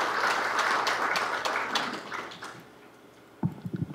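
Applause from a public hearing audience welcoming a presenter, a dense patter of many hands that fades out over a few seconds before a few closer thumps and handling noises near the end.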